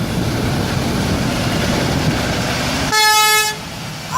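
Blast of an air horn on an International ProStar truck, one loud, harmonically rich toot about half a second long, cutting through steady traffic rumble on a busy road.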